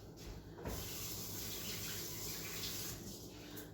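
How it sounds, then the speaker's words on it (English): Tap water runs steadily into a kitchen sink while hands are washed during doughnut making, a continuous close rushing splash with slight shifts in the flow. "let me wash my hands"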